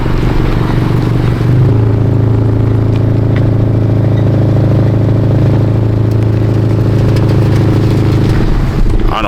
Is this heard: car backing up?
yes